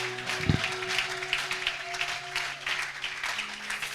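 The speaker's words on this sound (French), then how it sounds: "acclamons pour la gloire de Dieu" A church congregation applauds together to acclaim a choir, producing a dense, steady wash of clapping that continues throughout, with faint tonal music lingering beneath it.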